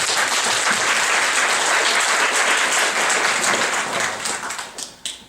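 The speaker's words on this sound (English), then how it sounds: "Please give our special guest a good big round of applause first." Applause for a special guest at a civic leadership forum fills the room as a dense, steady wash of clapping, holding strong for several seconds before thinning out and fading at the end.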